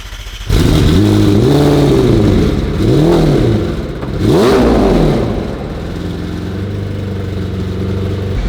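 Porsche 911 Turbo S engine with a misfire on bank 2 starts, then blips up and down several times before settling into a loud, uneven idle, close by and without speech.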